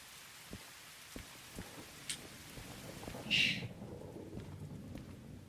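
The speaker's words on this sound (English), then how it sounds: "Thunder" Steady rain patters with scattered drop impacts in a VR steam train driving game, while a soft rumble of thunder swells briefly midway, all fairly faint and distant.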